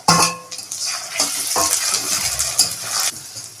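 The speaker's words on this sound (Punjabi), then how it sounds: "ਇਹ ਹੁਣ ਆਪਾਂ ਚੰਗੀ ਤਰ੍ਹਾਂ ਥੋੜਾ ਗੋਲਡਨ ਕਲਰ ਕਰਾਂਗੇ ਪਿਆਜ਼ਾਂ ਦਾ" Chopped onions fry in a pan for chole bhature, stirred as they turn golden, with a steady close sizzle broken by scraping and knocking strokes of the spoon against the pan.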